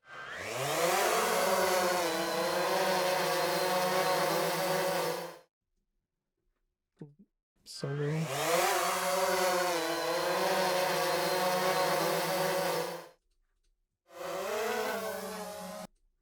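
Three bursts of a layered quadcopter liftoff sound effect, whining, buzzing motors spinning up and holding steady, separated by short silences.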